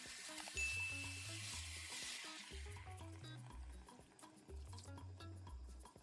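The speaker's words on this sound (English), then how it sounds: "Give it a good stir and allow it to simmer for about 5 minutes or just until your sauce thickens up" Beef sauce sizzling and simmering in a pan while being stirred, a soft steady frying hiss with light clinks of the utensil against the pan and faint background music.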